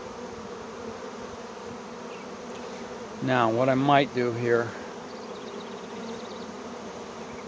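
A honey bee swarm being gathered by hand gives a steady, dense buzzing hum that runs the whole time, with someone speaking briefly partway through.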